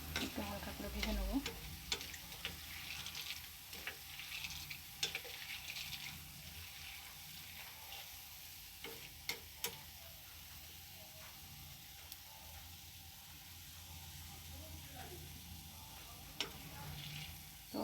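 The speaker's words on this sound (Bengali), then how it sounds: "তো ভাজাটা আমার প্রায় হয়ে এসেছে, এবারে তেল ঝরিয়ে হালকা করে তুলে নেব।" Food frying in oil in a home kitchen, a steady soft sizzle running throughout with scattered crackles and occasional clinks of a utensil, no talking.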